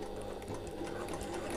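Faint, steady whir of a sewing machine stitching around the top of a fabric backpack, continuous and quiet throughout the short stretch.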